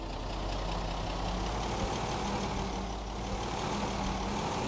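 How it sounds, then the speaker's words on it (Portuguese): A noisy car engine in a zombie survival video game runs steadily and loudly throughout, with a low idling rumble and no talk over it. "Esse carro é barulhento, meu amigo."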